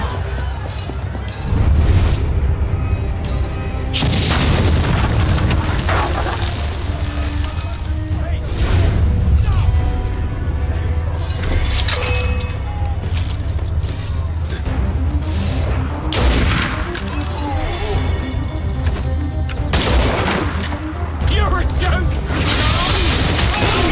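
Cannons fire in Assassin's Creed Unity during a siege, with a crowd breaking through a gate: repeated heavy booms and crashing bursts ring out over a constant battle din, while voices talk over the noise.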